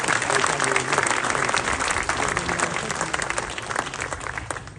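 A council audience at a Menton municipal meeting applauds the mayor of Sospel, a dense burst of clapping from many hands that stays loud and then thins slightly over about five seconds.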